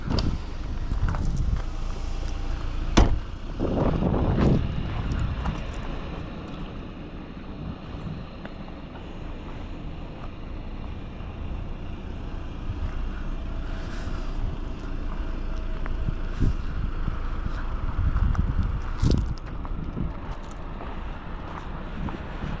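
A 2024 BMW 330i xDrive cruising on a scenic highway, heard as a steady broadband road and wind rush with a low engine hum, loudening briefly with a couple of sharper swells, no talking.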